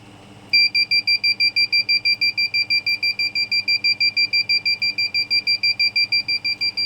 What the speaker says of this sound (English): Until this dries, this continuously keeps on beeping.